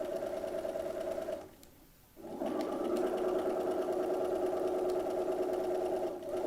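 Sewing machine running a stay stitch at regular stitch length along the top edge of a skirt, a steady mid-pitched whir with a brief slowdown partway through before it picks up again, close and alone.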